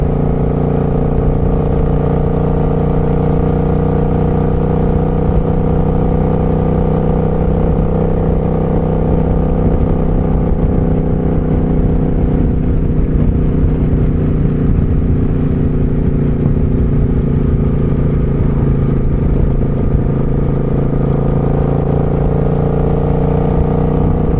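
Loud, steady engine drone of a motorcycle cruising a curvy road, with gentle shifts in pitch as it rides along, wind roar throughout.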